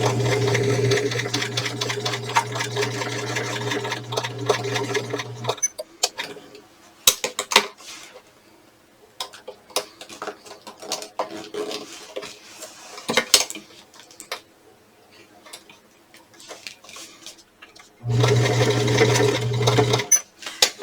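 A sewing machine stitching a vaccination card holder runs in loud steady bursts at the start and end, with quiet clicks and handling of fabric between, close by and no talk.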